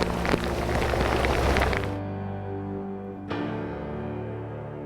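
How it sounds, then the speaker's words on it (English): Heavy rain at the end of the rainy season in Belize, a dense hiss of drops for about two seconds before the sound cuts to a quieter tonal bed, then a brief return of noisy texture. "Boy, did we get rain."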